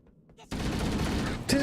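A short burst of rapid gunfire in the Halo video game cuts in abruptly after a quiet moment, loud and dense, with a bright sharp crack near the end.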